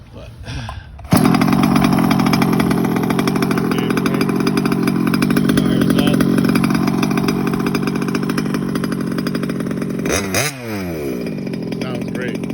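A small ESP piston-port nitro engine in an FS Racing RC car runs steadily at a high, buzzy idle after starting up, loud and close, with a brief rev blip near the end.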